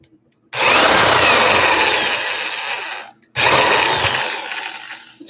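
A power drill spins up loud and close, runs for about two and a half seconds, cuts out briefly, then whirs again for another two seconds, with no talking.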